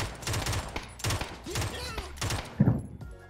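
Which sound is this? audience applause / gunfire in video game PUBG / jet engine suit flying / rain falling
gunfire in video game PUBG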